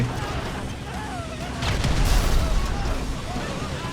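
A loud, rumbling bomb explosion bursts midway through, rising over a constant din of battle noise in GTA 5, with faint talking in the background.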